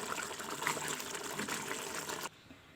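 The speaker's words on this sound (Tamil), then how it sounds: "மூடி வச்சு நல்லா கொதி வந்துருச்சுங்க" Mushroom gravy boiling in a covered pot, a loud, close bubbling hiss that runs steadily and then cuts off abruptly near the end.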